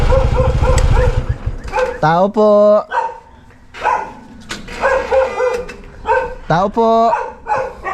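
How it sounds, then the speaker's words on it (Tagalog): A dog barks several times close by in a Philippine neighborhood, in bursts mixed with yips, while people talk and call out over and between the barks. "May aso."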